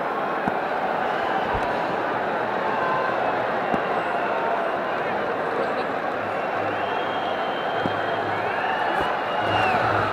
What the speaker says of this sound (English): Listen to the crowd loving this